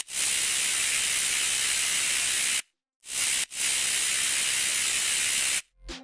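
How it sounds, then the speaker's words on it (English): Steady, loud hiss of white noise, the noise layer of a dubstep sustain bass, cut off twice by brief silences, with no other sounds. "On top of that, we have a noise layer"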